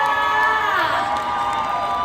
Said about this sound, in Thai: ขอเสียงปรบมือให้กับหนุ่มหล่อคนนี้ด้วยอีกครั้งหนึ่ง